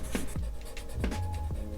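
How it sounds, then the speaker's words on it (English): A blending stick rubs back and forth over pencil shading on paper, a close, steady scratchy swishing in several quick strokes with no voices. "I've got this blending stick, and now I can smooth out some of this pencil."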